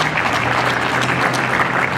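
Steady, dense applause from an audience at a ceremony handing over a covered roof structure to Sanchez Roman primary school, loud and continuous throughout with no break or talk.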